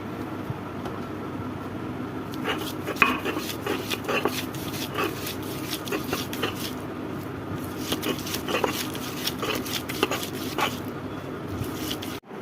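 Boiled jackfruit seeds are mashed and ground, giving a continuous close scraping and squishing with a rough back-and-forth rhythm and no speech.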